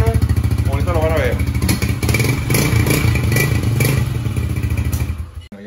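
A motorcycle idles and revs through its original stock exhaust, close and loud, with a rough throbbing engine note and some clattering, cutting off abruptly at the end.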